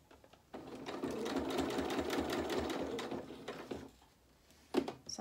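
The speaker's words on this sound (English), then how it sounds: "we're just going to sew a quarter of an inch across that seam line" A sewing machine stitches a quarter-inch seam on a shirt in a rapid whirring run of needle strokes lasting about three seconds, then stops, followed by brief handling clicks.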